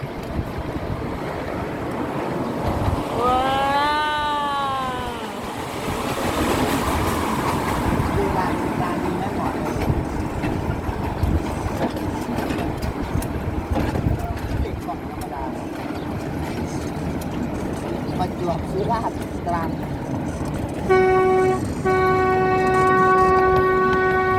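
A train rolls past with a steady rumble and rail noise, while a horn sounds near the end as a loud, sustained tone. Voices speak over it, and a brief whistle-like chirp rises and falls early on.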